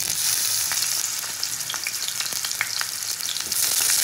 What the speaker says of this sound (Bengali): তেলটা গরম করে প্রথমে আমি কুচনো বেগুনটাকে আগে একটু ভেজে তুলে নেব।